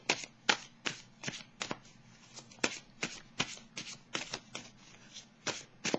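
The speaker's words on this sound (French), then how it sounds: "Je vais piger une carte pour terminer." A deck of tarot cards is shuffled close up in quick, irregular bursts of crisp riffling and flicking, with short pauses between them and no talk.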